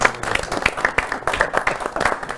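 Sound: audience applause

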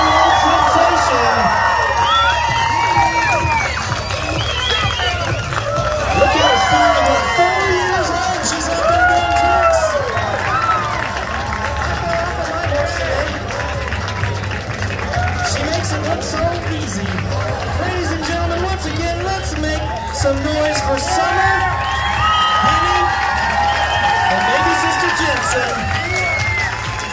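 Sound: county fair crowd cheering for trick rider

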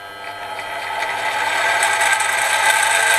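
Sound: milling machine running with noisy gears

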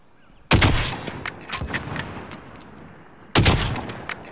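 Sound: gunshots from a battle royale video game

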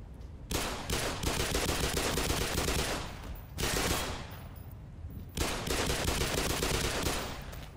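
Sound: grenade fired in the video game Black Mesa

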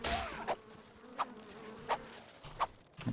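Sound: flies buzzing in the video game ARK: Survival of the Fittest

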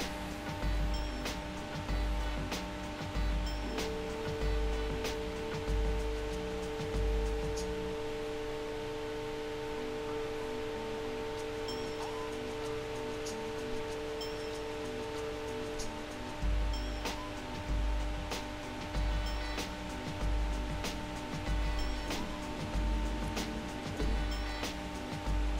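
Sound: CNC machine homing its axes, GRBL controller

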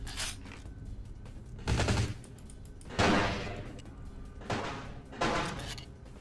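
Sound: gunshots in video game Vampire The Masquerade Bloodlines

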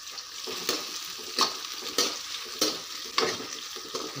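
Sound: onions roasting and stirred in a pan

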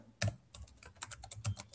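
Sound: typing on a computer keyboard

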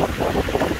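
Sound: wind on top of water slide tower

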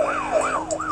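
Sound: police car siren in Need for Speed: Most Wanted video game

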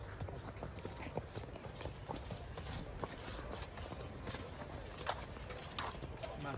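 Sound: stallion horse being walked, hooves clip-clopping

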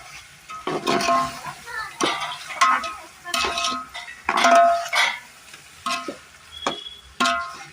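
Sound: stirring ground spice paste into frying chicken curry

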